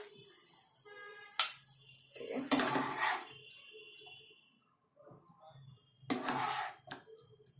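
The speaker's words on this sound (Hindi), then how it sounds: "मैं इसको सर्विंग बाउल में सर्व करूंगी।" White sauce pasta with mushrooms goes from a pan into a serving bowl: a sharp utensil clink, then two bursts of scraping and clattering against the dishes, close and moderately loud. A faint voice is heard at the start.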